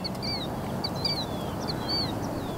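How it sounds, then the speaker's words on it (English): Birds call repeatedly, a series of sharp chirps and squawks over a steady low outdoor rumble. "These birds are loud."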